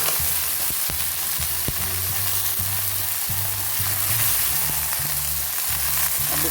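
Red and green chilies stir-fry in a pan with a splash of water for an Indonesian tumis of oyong, anchovies and petai, giving a steady loud sizzle broken by rhythmic scraping and clacking of a stirring spatula.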